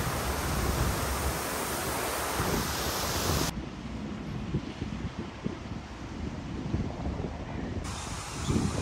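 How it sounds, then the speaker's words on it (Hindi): Loud, steady rushing roar of water pouring down a park waterfall, with broadband wind buffeting over the microphone; close and continuous, no voices. "पानी का शोर, अपनी आवाज़ भी मुझे सुनाई नहीं दे रही।"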